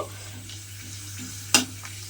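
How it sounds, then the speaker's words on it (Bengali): Papad fries in hot oil, a soft continuous sizzle with a steady low hum, broken by one sharp clack of a utensil. "পাঁপড়গুলো কিন্তু তেলের মধ্যে দিয়ে একটা একটা করে ভেজে নিতে হবে"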